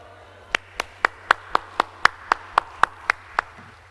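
A congregation at a church revival meeting claps in a slow, even rhythm, about a dozen sharp, loud claps spaced evenly and heard alone without talk.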